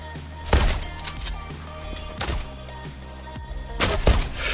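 Loud, booming shots from an M3 shotgun in the shooter game Zula, fired singly about every one to one and a half seconds, each blast followed by mechanical racking clatter over a steady game music drone.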